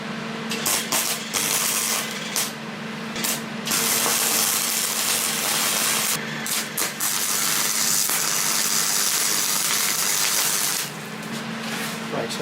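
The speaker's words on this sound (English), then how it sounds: "Right, so that's all the welding done" Welding on a heavy chain cobra lamp gives off a loud, continuous crackling hiss up close. It breaks off briefly several times in short pauses and bursts.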